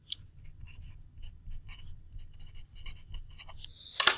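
Pen strokes scratching out letters by hand on paper, a run of short scribbling bursts with small pauses, close and fairly quiet, with no talking.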